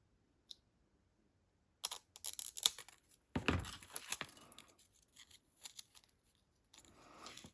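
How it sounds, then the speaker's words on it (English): Scissors cutting paper for a journal page spread, a few sharp snips followed by a cluster of crisp cutting and rustling, close and quiet against near silence. "I'm going to cut it here, where the S is"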